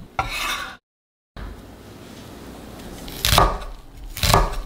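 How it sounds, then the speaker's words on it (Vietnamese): Garlic minced with a knife on a cutting board, scraping and chopping strokes with a short silent gap, then two louder chops near the end. "Phần tỏi này các bạn băm nhỏ."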